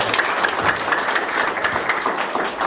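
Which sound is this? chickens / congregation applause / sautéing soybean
congregation applause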